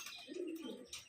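A female Andhra pigeon coos once, a soft low throaty call up close, with faint higher chirps around it.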